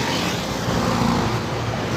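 A remapped Honda Click 125 scooter engine runs steadily while riding along a bypass road in Bustos, Bulacan, a continuous close engine drone mixed with road and wind noise, with no talking.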